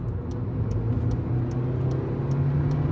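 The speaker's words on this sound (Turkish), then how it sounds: "Bak tuşa basarak dip gaz yapacağım şimdi." A Volkswagen Polo 1.2 TSI with a DSG gearbox held at full throttle, a close, steady engine drone with a strong low hum that stays loud and even, with no voices over it.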